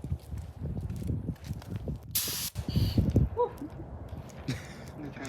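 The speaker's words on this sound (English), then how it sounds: "paint gun's all filled up" Paint spray gun spraying paint during an ATV quad restoration, a short loud hiss burst in the middle with rustling and handling noise around it, while a person speaks.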